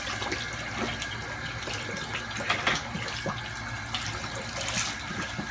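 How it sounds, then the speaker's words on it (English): Tap water running steadily into a sink while shaving soap lather is rinsed off, a close continuous splashing trickle with small bursts of heavier splatter. "Rinse off some of the soap, the lather."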